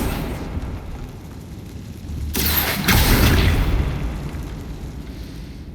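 A Confringo explosive spell from Hogwarts Legacy goes off as a loud, broad burst with a booming rumble that swells and slowly fades over a low background of game ambience, with no voices.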